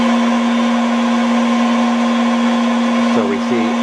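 A customer-assembled MachTach motor on a gear tooth sensor test rig whirs loudly and steadily at high speed, a constant strong drone with a brief voice near the end.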